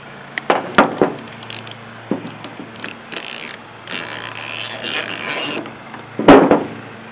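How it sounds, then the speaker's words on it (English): A wrench works loose a fuel line fitting on a Dodge D600 dump truck, giving sharp metallic clicks and scraping rattles in uneven bursts, with a loud clank near the end. "I got my wrench stuck."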